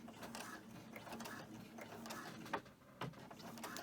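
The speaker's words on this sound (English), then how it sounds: "I'm going to do the straight stitch on this" A sewing machine runs a straight stitch on a quilt block, its needle clattering steadily in a fast mechanical rhythm with a low motor hum, close by and fairly quiet.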